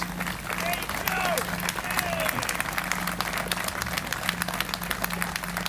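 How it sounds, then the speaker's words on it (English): A large outdoor crowd at a police memorial dedication ceremony applauds continuously, a dense wash of clapping with some cheering voices mixed in throughout. "Give that man a round of applause."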